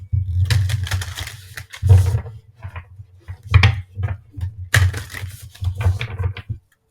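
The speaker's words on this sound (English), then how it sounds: "what I'm going to do is shuffle the cards off camera" Tarot cards are shuffled close up in bursts of rapid riffling and slapping, with brief pauses between each round of shuffling.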